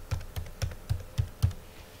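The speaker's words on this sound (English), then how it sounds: "Try to type one more time." Keys clack on a computer keyboard in a steady run of about six evenly spaced strokes, close and fairly quiet, with no voices.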